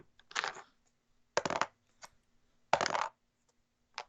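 Dice rolled during a Dungeons and Dragons session, three distinct rattling clatters on a table spaced about a second apart, plus a brief tap at the end, close and crisp against silence.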